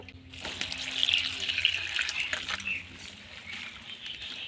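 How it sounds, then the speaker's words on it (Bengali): Running water splashes into a vessel as jujube fruits are rinsed for a village-style pickle, a close, steady trickle and slosh with brief stirring noises, no speech. "এর মধ্যে আমি জল দিয়ে দিলাম জল দিয়ে কুলগুলি একবার আমি ধুয়ে নেবো"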